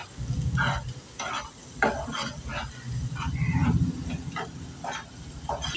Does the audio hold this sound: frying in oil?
yes